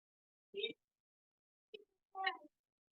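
Three short cat meows separated by pauses, clear and close against silence, the last one longer and rising.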